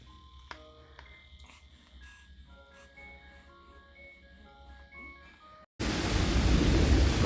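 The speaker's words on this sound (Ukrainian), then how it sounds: "Такий дощара, ну, гроза." Heavy rain from a thunderstorm bursts in suddenly as a loud, dense wash of noise in the final second and a half, following quieter indoor ambience with faint tones.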